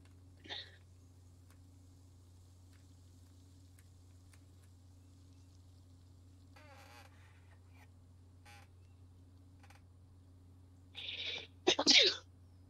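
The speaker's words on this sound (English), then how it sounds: "Now he's gonna sneeze like 20 times." A man's sneezing fit: one short sneeze near the start, then, after a long quiet stretch over a steady low hum, two loud sneezes in quick succession close to the microphone.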